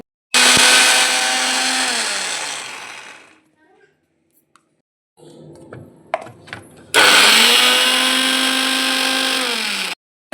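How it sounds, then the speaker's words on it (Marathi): Mixer grinder pulsing chopped cabbage coarsely: a loud motor whine runs about two seconds and winds down, a pause with rattling and handling of the jar, then a second loud burst of several seconds. "थोडासा आपल्याला मिक्सरला बारीक करून घ्यायचं आहे"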